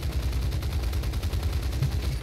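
Machine gun fire from a fighter plane in War Thunder, a continuous rapid rattle of rounds over a loud engine drone, steady and close throughout.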